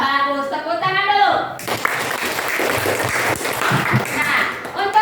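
Students in a classroom break into brisk clapping after a teacher speaks briefly. The applause is close and lively and continues for several seconds with scattered voices.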